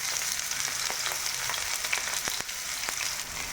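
Thinly sliced onions fry in a generous amount of oil for fish curry, giving a steady, close sizzle with occasional crackles and pops and no talking.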